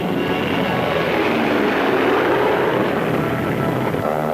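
Engines of B-29 bombers, WWII military aircraft on Guam, give a loud, steady propeller roar that fills the whole clip without a break, with no voices over it.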